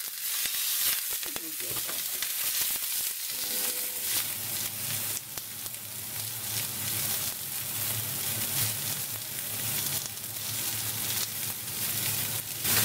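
Rump steaks sizzle loudly in a hot frying pan, a dense continuous crackle and hiss that swells after a few seconds, with brief speech near the start.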